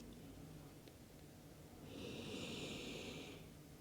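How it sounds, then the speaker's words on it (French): A single deep breath drawn in slowly during a short guided exercise session, a soft airy rush close by after a quiet pause, with no talking. "Et on va prendre ici aussi 3 grandes inspirations pour ouvrir vraiment tout le côté droit."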